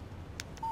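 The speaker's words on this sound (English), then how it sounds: "Text message from Barry." A text message notification tone sounds on a phone in the Alan Wake video game: a single steady electronic beep near the end, preceded by brief faint blips over a low background hum.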